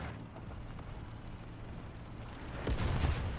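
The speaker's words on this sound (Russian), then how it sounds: "со стороны С как будто выстрелили, блин" A nearby tank cannon shot or artillery impact in a War Thunder battle lands as a loud, low, booming blast late in the clip, rising out of a steady background rumble of engines and battlefield noise.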